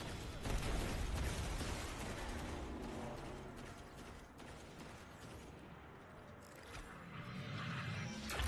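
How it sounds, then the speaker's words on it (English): Booming video game explosions and rumbling blasts with scattered crackling debris, loud and dense throughout. "I heard those explosions from here."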